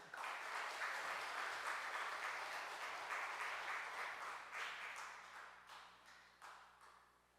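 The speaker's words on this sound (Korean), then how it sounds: "우리 뜨거운 박수로 한번 격려해 주실까요?" A church congregation applauds during a Sunday worship service, a warm, dense round of clapping that holds steady and then gradually trails off into scattered claps.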